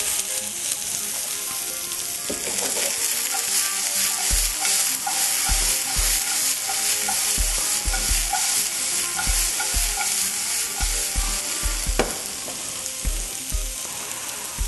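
Chopped garlic sizzles steadily in a hot pan while a utensil stirs it, a continuous frying hiss punctuated by regular soft scraping and tapping strokes, close and fairly loud.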